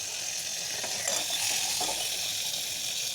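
Tomatoes frying in hot oil in a pan over a low flame for a village-style fish gravy, a steady close sizzle and hiss throughout with a few faint stirring clicks.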